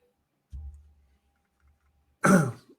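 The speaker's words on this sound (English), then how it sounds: "I didn't want to cough into my microphone" A low, brief rumble followed by one sharp, harsh burst of a cough or throat clear, close and loud, with silence around it.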